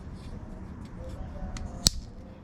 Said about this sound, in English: They do send you a little tool cutter right here to make sure you cut a nice straight line